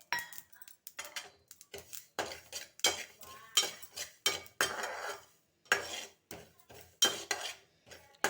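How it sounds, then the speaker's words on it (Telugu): Poppy seeds and sesame seeds roast in a pan, heard as a series of close, irregular scraping and clinking strokes of a utensil stirring against metal, separated by short silences. "ఇప్పుడు గసగసాలు వేస్తున్నాను."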